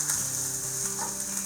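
Spaghetti noodles pan-fry in a skillet with a steady, close sizzle and a faint ratcheting hum beneath it, continuous through the short stretch.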